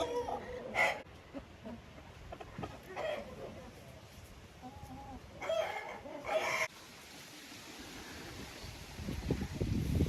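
Chickens in an outdoor enclosure cluck and crow in repeated short bursts, fairly close, with quieter gaps and some rustling between calls.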